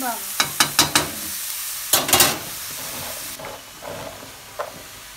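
Chicken and prawns sizzle in a pan with a constant hiss, opening with a quick run of metal clicks and a short burst of scraping before settling into quieter frying.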